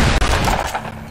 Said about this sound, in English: Shoot him in the back. Bring him down.